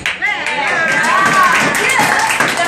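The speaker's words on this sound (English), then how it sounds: "if it's good, you must clap lah" Audience clapping after a testimony story, steady dense applause filling the room with voices and cheering mixed in throughout.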